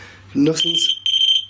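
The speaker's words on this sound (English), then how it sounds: "That was the alarm on the lock-off camera." Electronic alarm on a lock-off camera set up at Owd Betts, giving a steady high beep that sounds twice in quick succession, with someone talking briefly as the first beep starts.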